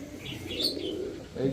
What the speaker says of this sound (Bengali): দেখেন কবুতরগুলা কিন্তু জোস